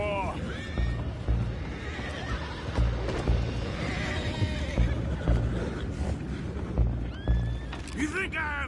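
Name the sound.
horses neighing and hooves clopping in Red Dead Redemption 2 video game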